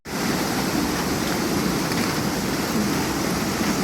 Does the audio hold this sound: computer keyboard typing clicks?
no